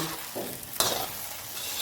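A sharp burst of sizzling as spices drop into hot peanut oil in an iron pan, with stirring before it and a steady crackle after, close and loud.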